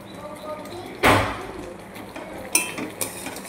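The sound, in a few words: stirring mango pickle in a cooking pot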